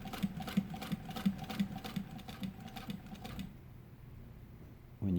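An industrial sewing machine driven by a servo motor and fitted with a size 18 leather needle stitches slowly in an even, rhythmic knocking pattern, then stops, leaving near silence.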